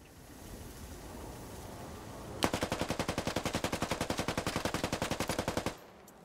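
Automatic gunfire in the SquadOps video game: after a quiet stretch of low background noise, a long, rapid, evenly spaced burst of loud shots rattles for about three seconds, then cuts off abruptly.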